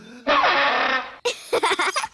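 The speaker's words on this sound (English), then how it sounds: "That's the spal throttle." Spal throttle, a silly-sounding instrument from an elf band, gives a loud sustained buzzing honk, then a short break and a run of choppy, stuttering bursts, heard alone.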